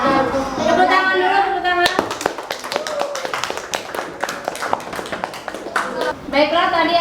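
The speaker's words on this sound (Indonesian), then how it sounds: "Tepuk tangan dulu, tepuk tangan." A class audience claps hands in a school presentation setting, a run of sharp, fairly close claps following a speaker's voice, with talking returning at the end.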